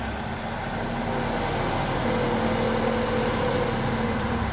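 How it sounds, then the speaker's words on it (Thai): Small crane truck pouring concrete for a factory parking-lot floor in an industrial estate, its diesel engine droning steadily and loudly throughout with a low hum and no talk. "วันนี้จะพามาชมการเทปูนของรถเครนเล็กครับผม"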